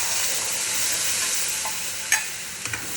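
Ground coconut, cumin, green chilli and ginger paste hits a hot tempering, giving a steady loud sizzle with a few brief stirring clinks near the end.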